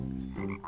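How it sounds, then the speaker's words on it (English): A frog croaks close by in a short, throaty burst with a rising end, with no one talking over it. "it's a frog."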